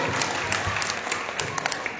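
Children applauding at a student honour ceremony in Ratan Nagar, a dense, sustained wash of clapping close by with scattered sharper claps.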